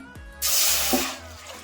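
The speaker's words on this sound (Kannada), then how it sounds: "ಇವಾಗ ಒಂದು ಪಾತ್ರೆ ತೊಗೊಂಡಿದ್ದೀನಿ, ಅದಕ್ಕೆ ಒಂದು ಸ್ವಲ್ಪ ನೀರು ಹಾಕೊತಾ ಇದ್ದೀನಿ" Water poured into a cooking pot in a home kitchen for blanching broccoli, a brief close splashing rush that starts suddenly and tapers off over about a second.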